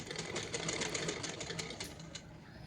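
A sewing machine stitching along the edge of a neckline strip on a suit, giving a rapid, continuous mechanical clatter up close at moderate volume, with no speech.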